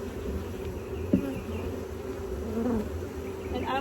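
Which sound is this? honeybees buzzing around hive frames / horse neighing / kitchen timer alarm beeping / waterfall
honeybees buzzing around hive frames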